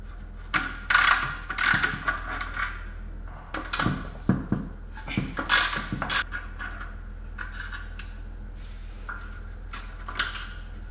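A ratchet wrench clicks in short bursts while loosening the 13 mm sway bar bolts on a Jaguar S-Type during rear subframe removal. The metallic ratcheting is close and comes in quick runs separated by pauses.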